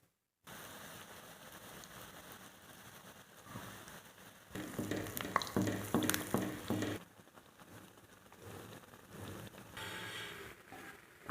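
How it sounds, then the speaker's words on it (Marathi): Medu vadas deep-fry in hot oil with a steady close sizzle, swelling into a louder burst of crackling and popping in the middle as more batter hits the oil, then easing back to a softer bubbling. "आता मी सगळे वडे तळून घेते."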